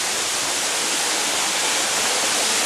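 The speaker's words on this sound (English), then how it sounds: "And over there is the waterfall." Waterfall seen from a muddy hiking trail among rock ridges and trees on the way to Turtle Back Arch, a steady, dense rushing roar of falling water that fills the whole stretch evenly without a break.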